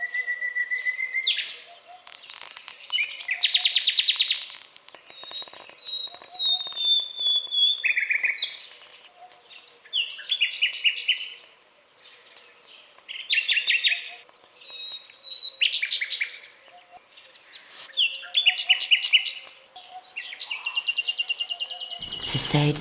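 A nightingale sings alone in bursts of varied, rapid whistles, trills and chirps separated by brief pauses, clear and fairly close against a quiet background.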